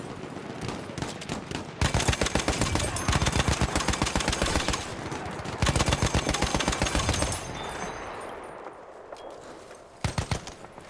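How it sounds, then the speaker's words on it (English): Teammate firing a light machine gun in Battlefield 1 on the Turning Tides maps, long sustained bursts of rapid shots with short pauses, a final short burst near the end, heard alone and fairly close. "you have started shooting too quick there"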